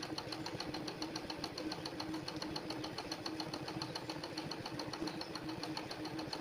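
A zigzag sewing machine sews slow running-stitch embroidery along a marked line, giving a steady, rapid mechanical ticking and whirring at moderate level that runs evenly throughout, with no voices.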